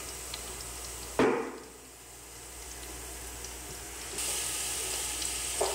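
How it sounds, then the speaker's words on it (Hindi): Green chillies fry in a pan over moderate heat for vegetable fried rice: a soft, steady sizzle, a sharper hiss and crackle as something hits the hot oil, then a brighter sizzle toward the end, with no talking. "यहाँ पर हमारी जो मिर्च है वो फ्राई हो रही है।"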